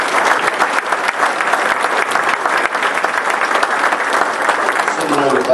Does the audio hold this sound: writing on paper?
no